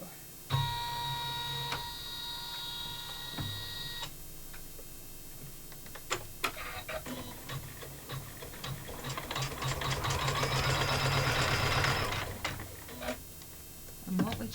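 An embroidery machine stitches an in-the-hoop pouch with a front foldover, ticking in a rapid mechanical rhythm with ratcheting clicks and a motor hum, building to a busier, louder run of stitching before easing off.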